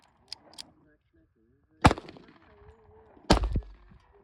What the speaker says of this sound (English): Did that 380 shoot all right after I got the safety off, Wade?